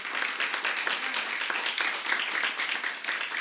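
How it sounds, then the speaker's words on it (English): An audience at an honors ceremony claps together in a dense, steady round of applause that fills the whole stretch, moderately loud with no clear break. "give yourselves a big round of applause"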